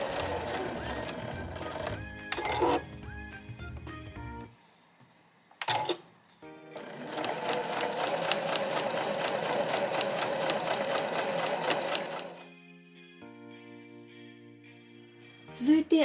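Domestic sewing machine stitching the seams of a slim fabric pouch, running in short bursts and then one long steady stretch of rapid mechanical chatter, close up, with brief pauses between runs.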